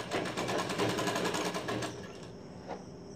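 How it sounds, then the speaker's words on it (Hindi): A sewing machine stitches along the edge of red blouse fabric with a fast, even mechanical chatter close by, then slows and stops, leaving a faint hum and one small click. "तो उसमें भी इसी तरीके से किनारे से सिलाई कर लेना है और सिलाई करके इसको भी पलटा लेना है।"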